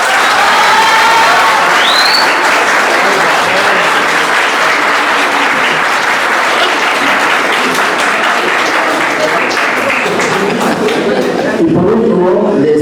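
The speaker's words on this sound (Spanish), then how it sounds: "Un aplauso también, por favor." An audience at a book presentation claps loudly and continuously, a dense wash of applause that carries on throughout before thinning slightly near the end.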